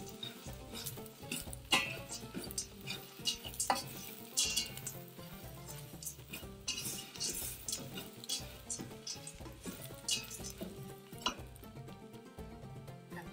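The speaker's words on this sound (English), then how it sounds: "And we roast those ingredients until they start to brown." Ingredients roast and are stirred in a pot, with a faint, steady sizzle under frequent scraping and clinking of a utensil against the metal, close and quiet, no one speaking.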